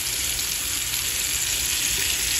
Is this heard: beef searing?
yes